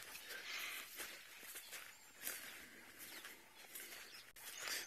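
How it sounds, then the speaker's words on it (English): Many wild birds call at a safari site, faint chirps and short whistles scattered across the whole stretch over quiet outdoor ambience. "So you can hear there's quite a lot of birds making noise."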